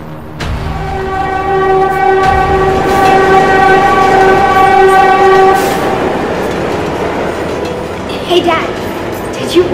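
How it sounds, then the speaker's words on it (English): A subway train roars past, loud and close, with a sustained horn-like tone over rumbling clatter for several seconds before fading, set in an action fight scene. "Subway train system?"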